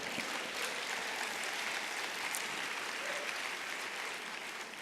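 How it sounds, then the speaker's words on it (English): Sustained audience applause at a conference address by a former astronaut, a dense steady patter of many hands clapping throughout, fairly distant and even in loudness with no voices over it. "You can applaud that."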